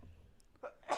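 One quick, faint sneeze bursts out near the end after a short quiet stretch, with a small catch of breath just before it.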